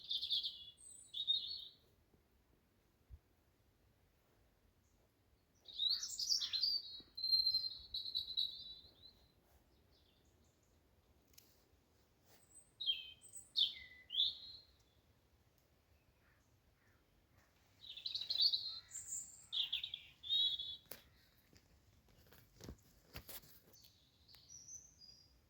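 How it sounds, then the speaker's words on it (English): A blackbird sings near a campfire outside a wagon, its clear, high phrases coming in several separate bursts with quiet pauses between, while faint insect chirring runs softly underneath. "Listen to me blackbird."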